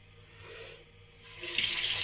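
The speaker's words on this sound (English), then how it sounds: "let's rinse slightly more here on the face" Tap water runs while a freshly shaved face is rinsed at a sink, a soft steady flow that swells louder and splashier in the second half as hands cup and splash water, with no talking.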